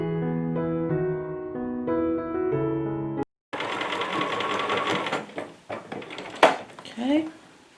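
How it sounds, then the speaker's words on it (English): A sewing machine stitches flannel fabric in short, close whirring bursts with small clattering knocks in between, following a stretch of tonal music. "I'm using the side of my sewing machine foot as my stitch guide"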